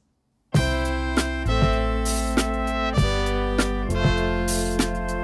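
A three-piece horn section plays big open-voiced triad chords, a rhythmic series of sustained brass stabs with repeated attacks roughly every second, loud and close with no talking.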